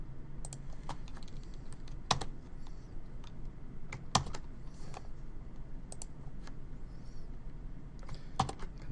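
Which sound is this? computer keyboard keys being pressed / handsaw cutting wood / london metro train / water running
computer keyboard keys being pressed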